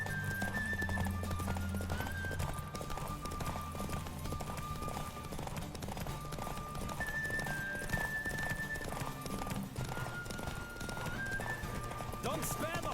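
A horse gallops flat out during a race in The Witcher 3, its rapid, steady hoofbeats pounding close and loud for the whole stretch over a bed of game music.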